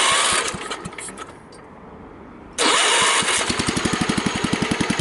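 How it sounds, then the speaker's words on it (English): A choked Kohler K141s engine cranks loudly, then pauses before it fires and settles into a loud, steady idle with a regular, even thumping beat. "hit the start button, it'll probably fire right up"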